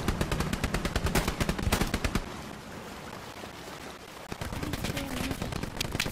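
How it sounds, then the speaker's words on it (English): Close, rapid bursts of automatic gunfire crackle in the Hell Let Loose World War II shooter during a battle on the Carentan causeway, dense for about two seconds, then continuing more sparsely with scattered shots and distant battle noise. "Enemies shooting near my position."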